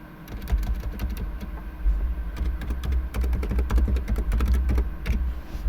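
Rapid clacking keystrokes on a computer keyboard as a search is typed, a steady close run of taps with brief pauses, no talking.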